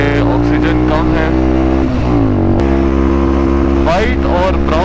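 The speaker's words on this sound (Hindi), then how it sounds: "एल्टीट्यूड गेन करने की वजह से बाइक ने मिसिंग करना शुरू कर दिया" A motorbike climbing to high altitude runs loud and close, its engine droning with a wavering pitch that drops abruptly midway, suggesting rough running at certain revs.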